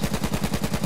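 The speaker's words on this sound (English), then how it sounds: "Oh, watch out, getting sniped from the north." Gunfire in the battle royale video game H1Z1 comes as a loud, rapid burst of about eight evenly spaced sharp shots in under a second, close and punchy with no voices over it.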